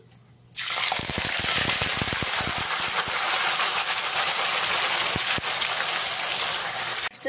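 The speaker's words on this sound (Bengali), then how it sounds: "গ্যাসের ফ্লেমটা হাই করে ভেজে নিতে হবে" Onion paste frying hard in oil over a high gas flame, a steady loud sizzling hiss that bursts in abruptly and holds for several seconds with crackles.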